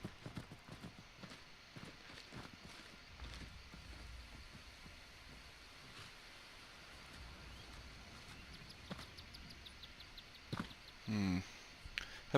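Horse hooves clip-clopping along a road in the video game Skyrim, a quiet steady rhythm of hoofbeats with a few louder knocks toward the end.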